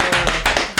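A small group claps steadily indoors: a dense, close burst of applause that runs through the whole brief moment, with no voices over it.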